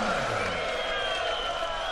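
Darts crowd at the 2015 European Darts Championship semi-final, applause and cheering after a checkout, a steady wash of clapping under a commentator's voice.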